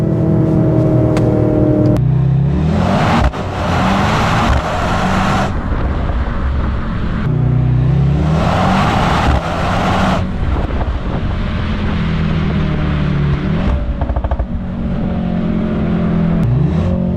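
A 2024 Mercedes-AMG C63 S E Performance with a four-cylinder engine accelerates hard from a race start, revving up through several gear changes, loud and close, with wind rushing in the background.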